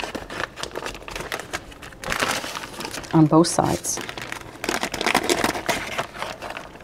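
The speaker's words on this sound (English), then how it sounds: "I'm taking my scissors and I'm going to cut the bag" Scissors snipping through a plastic bag of butter for croissant dough, a short crinkly cut of plastic in the middle of the clip, close by, with a person talking before and after.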